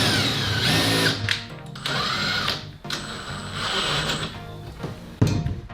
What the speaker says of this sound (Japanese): ボルトを取り付けて、最初左回転で回した後、今度は右回転で回せば取り付けられるそうです